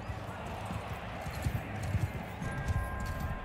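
Horse hooves clip-clop in Mount & Blade 2: Bannerlord (Europe 1100 mod), a steady low patter of several hoofbeats amid battle noise, with a few louder strikes in the middle and a faint whinny possible.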